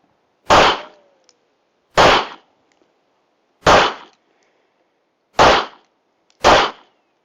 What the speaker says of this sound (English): Let's see if a quick field rinse would get this gun running or get it up and running operational again.